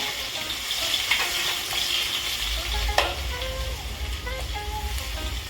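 Chopped ginger and garlic frying in oil in a pan, a steady close sizzle with faint stirring scrapes throughout, no talking.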